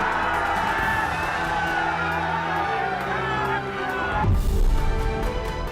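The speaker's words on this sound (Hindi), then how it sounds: "उत्तर 24 परगना की सभा में भारी भीड़" A large, dense crowd roars and cheers at an Amit Shah political rally in North 24 Parganas, West Bengal, a continuous wall of voices that swells louder near the end.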